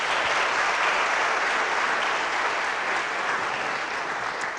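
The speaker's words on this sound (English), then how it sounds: "let's give him a big round of applause" Loud, dense applause from an audience at a political evening event honoring Governor Beebe, sustained evenly throughout without pause.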